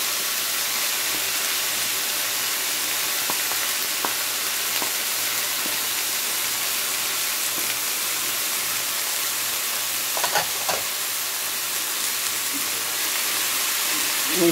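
Vegetables, including tomatoes and carrots, frying in a pan for a shrimp noodle dish, a loud, dense, unbroken sizzle with a few brief stirring clatters partway through.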